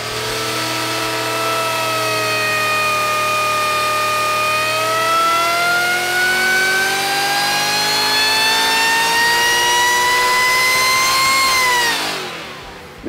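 A supercharged small-block Ford V8 of about 900 horsepower revs up loud and close, pitch climbing smoothly for several seconds before dropping off as the throttle closes.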